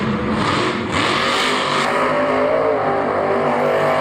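A monster truck at a Monster Jam arena show, its rear driveline broken and rear steer flailing, spins a donut with a loud, continuous engine roar that holds steady over the full few seconds amid constant crowd and arena noise.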